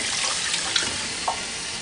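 Tap water runs steadily into a sink while components from a Manitowoc NEO undercounter ice machine are rinsed, with a couple of soft clunks as parts shift under the stream.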